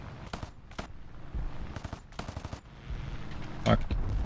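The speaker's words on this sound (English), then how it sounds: "That's more like the damage I want from these guns." Machine guns on a P-51H-5 fighter fire in a flight combat video game, loud rapid bursts repeating in short clusters over engine and battle noise, with a voice talking briefly.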